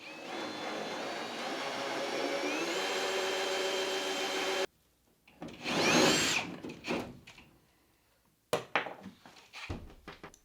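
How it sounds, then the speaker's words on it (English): A power drill boring a hole through a wall for a shower valve during a bathroom renovation: a sustained whining motor, then silence, a short rising burst of drilling, and a few scattered knocks and clatters. "I'm just going to drill this hole."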